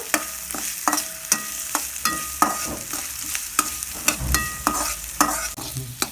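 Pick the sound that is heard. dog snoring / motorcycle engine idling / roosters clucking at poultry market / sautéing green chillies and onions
sautéing green chillies and onions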